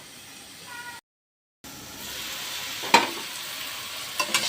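Dried hilsa shutki fries in a pan with a soft, even sizzle. The sound cuts out briefly, then returns with a couple of sharp spatters near the end, close and quiet.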